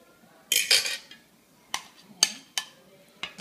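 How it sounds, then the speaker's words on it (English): A spoon scoops egg while making Cambodian Nom Bakbin, giving a run of sharp metallic clinks and scrapes against the dish. The clinks are close and irregular, with no one talking. "scoop your egg."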